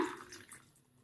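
Tamarind water is poured into a garlic curry in a pan, a brief, faint splashing pour that starts strongest and fades out within about a second.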